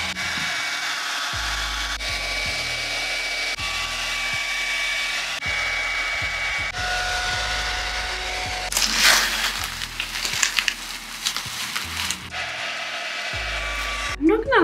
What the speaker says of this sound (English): I've got a hairdryer, it's all I've got,